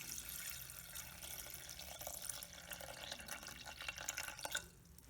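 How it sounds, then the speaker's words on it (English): Water pours steadily over dry pasta inside a rice cooker pot, a faint continuous trickling and splashing that lasts several seconds and then cuts off. "The water, I need just enough to cover the pasta."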